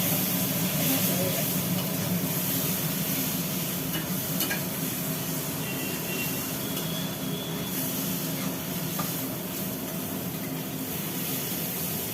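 Spices with salt and turmeric sizzle loudly in a pan for an egg, potato and cauliflower dalna, stirred continuously with occasional light clinks of the spoon, steady and close throughout.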